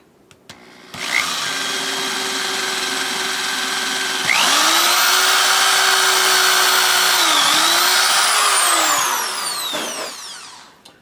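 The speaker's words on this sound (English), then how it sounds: "Come in with the drill." A power drill whines steadily as it bores into a plastic part of a Merr-Sonn Power 5 BlasterPro prop blaster kit, loud and close, its motor pitch rising and dipping under load for about nine seconds before spinning down.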